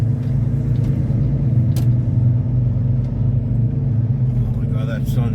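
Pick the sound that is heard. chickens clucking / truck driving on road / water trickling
truck driving on road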